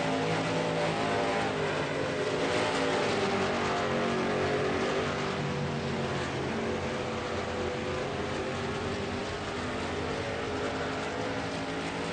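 Race cars, seventeen registered, lapping a track with a continuous loud engine roar that holds steady the whole time, no voices over it.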